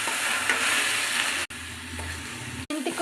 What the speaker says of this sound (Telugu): ఇప్పుడు మన మెంతాకుని నీట్గా గిల్లేసి చక్కగా కడుక్కొని ఇట్లా యాడ్ చేసుకొని కలిపేసేయాలి.